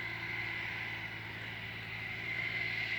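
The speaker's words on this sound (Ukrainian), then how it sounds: "Тракторець десь він із туману. Зараз буде з'являтися." A steady tractor engine drone hums continuously at a distance through fog, low and even, with a faint whine rising slightly toward the end as it approaches during ploughing.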